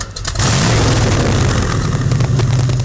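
A De Tomaso Pantera mid-engine car with very short exhaust pipes, short headers and a small box silencer roars loudly up close, a deep sustained exhaust note rising after a brief quieter start.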